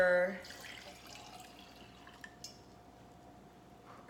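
Water is poured for a Clawse detox drink made with cayenne pepper, a short splashing pour at the start followed by quiet drips and faint glass or dish clinks nearby.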